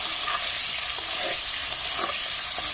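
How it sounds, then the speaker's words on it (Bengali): Halved potatoes frying in hot oil in a pan, a steady close hiss and sizzle with a few faint stirring scrapes and no voices. "আলুটা এইভাবে ভেজে নেব"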